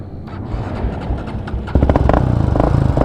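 A Honda 400 quad's engine revs hard, jumping to a loud, steady, throttled-up roar partway through after a rougher, lower running start, close by and without talk.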